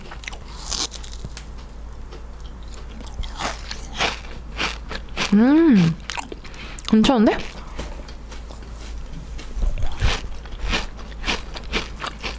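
Crisp bites and crunchy chewing of a Dubai chewy cookie, a few sharp crackling crunches up close, interspersed with brief speech and humming.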